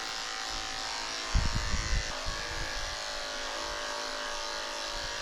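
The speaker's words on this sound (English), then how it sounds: "I'm also shaving her belly out with a 10 blade." Electric clippers fitted with a 10 blade shave the belly of a senior Lhasa Apso dog, a steady close buzz running throughout with a brief louder rumble of handling partway through.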